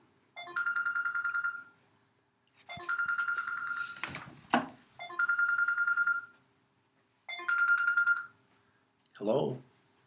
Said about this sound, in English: Okay, now I get the phone.